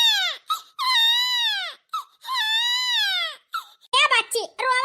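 A cartoon baby girl wails in long, high, quavering cries broken by short gasps, loud and close, ending in choppy sobbing squeals.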